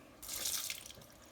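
Tap water runs into a sink to rinse canned chili beans, a steady broadband gush that starts abruptly, peaks for about half a second, then eases to a softer trickle.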